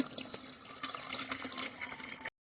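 Water pours steadily from a hose or can onto garden plants in a short, quiet, continuous splash, ending abruptly.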